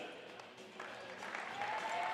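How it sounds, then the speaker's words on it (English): A basketball crowd claps for a player introduction at a women's game between Southern Hoiho and Northern Kāhu. The applause is brief and faint at first, then swells slightly toward the end. "please put your hands together for number 3, Bailey Flavel"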